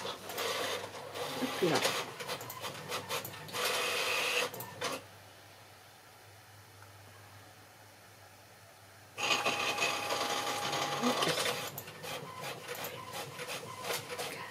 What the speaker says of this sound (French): Tu as entendu l'imprimante, mon chat.